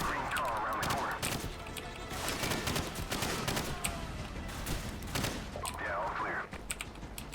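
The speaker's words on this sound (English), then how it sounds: "I cannot deal with that machine gun." Machine gun fire crackles in repeated rapid bursts in the shooter game Call of Duty 4, loud and dense, with other gunfire and game effects mixed in and occasional faint voices.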